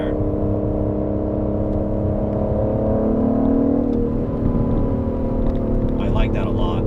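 A 2020 Aston Martin DBS Superleggera drives in automatic mode while holding its gear. The engine gives a steady, smooth drone from inside the cabin, with a voice faintly present.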